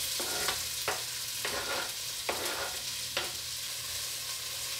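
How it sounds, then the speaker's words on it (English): Onions, carrots and garlic sizzle steadily in olive oil in a Dutch oven, with a continuous frying hiss broken by several sharp stirring scrapes at irregular intervals, close and moderately loud with no talking. "we're going to add our onions, carrots, and garlic into the pan"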